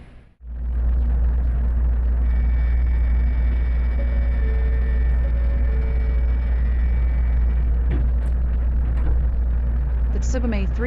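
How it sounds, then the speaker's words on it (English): Inside a Tsubame 321 Shinkansen train pulling out of Shinshimanaseki Station, a steady deep rumble and motor hum rises quickly and holds loud and constant, with faint thin tones above and a few clicks near the end. "The Tsubame 321 departs from Shinshimanaseki Station"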